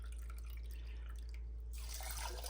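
Water poured into a saucepan of washed basmati rice, a steady splashing trickle that swells into a louder rushing pour near the end.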